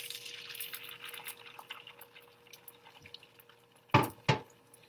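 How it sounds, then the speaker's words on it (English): Beaten omelet eggs pour into a warm pan with a faint, liquid trickle and sizzle, followed by two sharp, close clatters near the end. "I'm going to pour my omelet in the pan"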